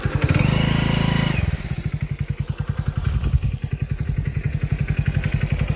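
A motorcycle engine runs close by on a village outing near wheat fields: a loud, steady roar at first, then a rhythmic, evenly pulsing putter as it idles, with no voices.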